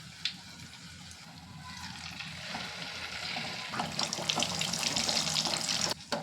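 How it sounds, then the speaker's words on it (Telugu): Batter-dipped purnam boorelu balls drop into hot oil and fry, the bubbling sizzle swelling louder and busier over a few seconds, close by, with no voices. "ఇలా బాల్స్ని డిప్ చేసుకొని నూనెలోకి వేసుకోవాలి."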